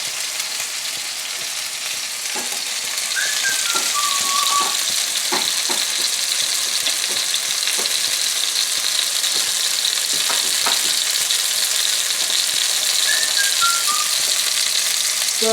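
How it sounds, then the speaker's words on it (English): Citrus tuna steaks sear in a pan over a hot fire, giving a loud, steady hiss and crackle with scattered pops, close and constant throughout with no talking. "And the tuna steaks are cooking."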